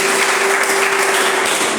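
A church congregation claps through an evening service, a dense, loud wash of applause with a steady tone humming underneath, continuous throughout.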